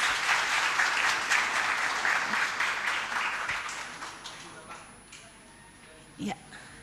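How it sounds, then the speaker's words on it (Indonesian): An audience at a university public lecture on peace in Aceh applauds in a dense, steady burst of clapping that gradually thins and fades out, followed by a few faint knocks. "Boleh uh, tepuk tangannya uh, hadirin semua."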